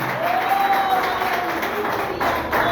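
Church congregation clapping and cheering in a continuous wash of applause, fairly loud and sustained across the short stretch.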